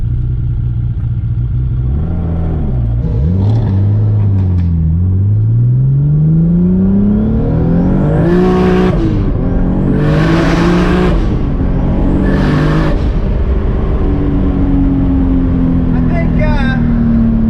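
Nissan 240SX with a 2JZ engine swap and a repaired clutch that had welded itself to the flywheel or pressure plate, idling and revving loudly close by, with rising and falling engine pitch and several sharp throttle blips, no talk over it.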